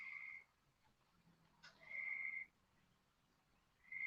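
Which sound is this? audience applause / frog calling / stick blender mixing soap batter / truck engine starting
frog calling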